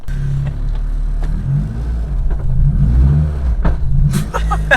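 Honda EK9 or DC2 engine revving from inside the cabin, a steady loud low drone that swells slightly as the throttle is blipped, with voices talking briefly near the end.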